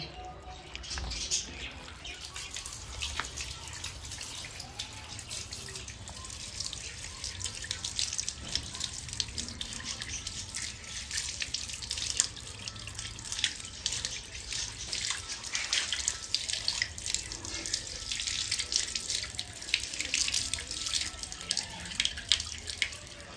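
Running tap water splashes as lotus plants are rinsed under it, a continuous close gushing and spattering with small drips and handling noise, steady across the whole stretch.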